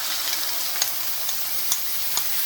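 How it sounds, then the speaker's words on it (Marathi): Broccoli puree going into melted butter in a pan, a soft steady sizzle with a few small clicks and taps from the pan, no voices. "बटर मेल्ट झालेलं आहे। आता याच्यामध्ये मी ही ब्रोकलीची प्युरी ॲड करते।"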